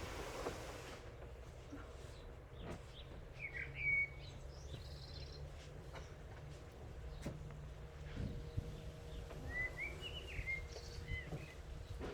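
Birds chirping and calling outdoors, faint and scattered in short tweets over a quiet, low background hum with no talk.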